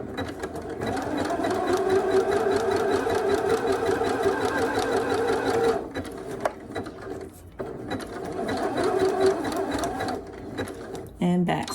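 A sewing machine zigzag stitches knit fabric for a simple summer dress in a long steady whirring run, pauses briefly, then stitches again close by, while someone speaks over it.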